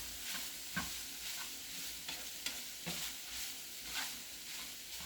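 Beef seasoned with Italian seasoning and garlic stirred in a frying pan for cheesy beef ravioli, a low steady sizzle broken by repeated scraping strokes of the utensil, fairly close with no talking.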